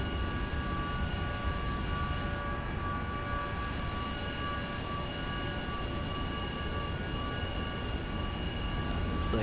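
A simulated airliner taxis toward the runway in a flight simulator game, giving a steady droning jet-engine hum with a constant broadband whoosh and a faint high whine, unbroken throughout.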